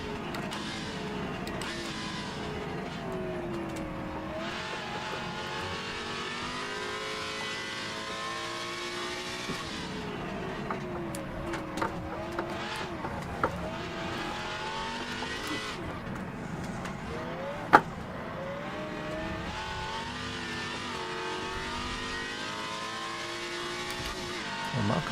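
V8 race car engines howl in the rFactor 2 racing game, with a steady, droning multi-car roar that rises and falls through gear changes as the laps go on, plus a few sharp clicks and a brief spike near the end.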